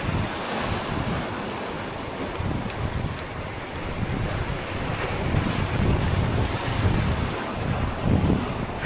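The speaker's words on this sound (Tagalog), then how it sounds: "Ang lakas ng hangin, ang hirap ibato yung pain natin." Strong wind gusts across the sea during fishing, blustering over rolling surf and water, with loud roaring noise filling the background and no talking.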